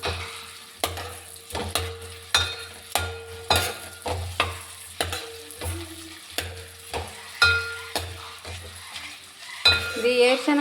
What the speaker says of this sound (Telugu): గుడ్లు వేపుకోవాలి.